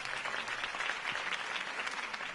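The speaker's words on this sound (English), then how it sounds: "If only Mr. Wayne, my campaign's largest backer, could have heard that applause" Crowd applause from a political campaign rally in the video game Batman: The Telltale Series, a dense, continuous clapping roar that fills the whole moment without any voice.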